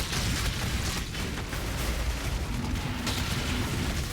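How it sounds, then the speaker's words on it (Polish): Izaro, the boss in Path of Exile, lets off a dense, loud explosive blast with rumbling, crackling bursts that run steadily through the stretch with no quiet gaps. "Trzeba uważać na ten jego cholerny wybuch."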